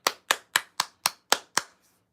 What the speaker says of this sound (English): Round of applause for the mods.